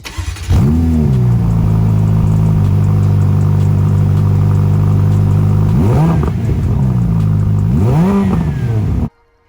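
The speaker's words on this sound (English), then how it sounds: "Next, let's listen to the exhaust note." A 2020 Ferrari F8 Tributo's 710-horsepower twin-turbo V8 idles with a deep steady rumble close by, broken by three sharp revs that rise and fall, then cuts off abruptly.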